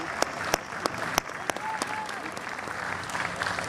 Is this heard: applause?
yes